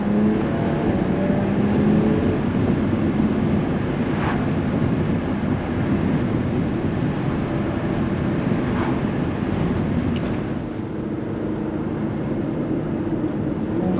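Jaguar F-Type 3.0 V6 coupé with eight-speed automatic in dynamic mode, its engine revving as a steady, continuous drone heard from inside the car, with broadband wind and road rush throughout.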